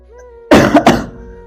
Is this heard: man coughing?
yes